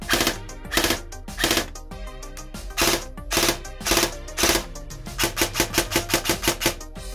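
An airsoft gun with a custom motor fires on semi-auto, starting with several single sharp mechanical shots spaced about half a second apart, then a quicker run of evenly spaced shots, close and fairly loud.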